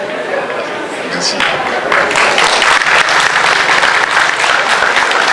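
An audience applauds steadily at a community folklore afternoon event in Rosny-sous-Bois, the clapping dense and sustained and building slightly louder after the first second, with no one speaking over it.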